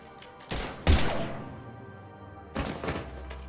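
Gunfire in the shooter Mass Effect 3, heard as a few sharp loud bursts and a heavy thump with a lingering rumble between them. There is no talk.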